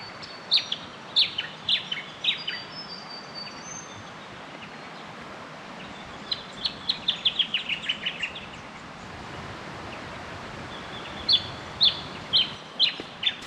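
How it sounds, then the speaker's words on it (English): Small birds sing outdoors in the high country on a still, cold morning, bright clusters of quick chirps and trills recurring in bursts over a steady background hiss, with no talking. "Birds are singing, skies are blue, there's no wind."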